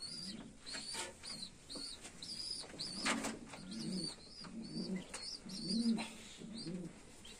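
Pigeons of improved breeds cooing on a pigeon farm: repeated soft, throaty coos at a steady pace, with faint chirps and twitters from other birds mixed in, fairly close and not loud.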